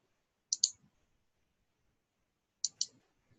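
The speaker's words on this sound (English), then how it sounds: "we're going to click on define name" Two pairs of crisp computer mouse clicks, each a quick double tap, separated by about two seconds of near silence, close and clean with no talk.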